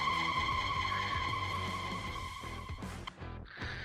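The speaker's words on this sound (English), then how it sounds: "When the Charger driver gave it too much gas on the wet road, he spun out and started to go off the road" A Dodge Charger's tires squeal in a long, loud, steady skid as it spins out on a wet road, the screech cutting off abruptly near the end with no talk over it.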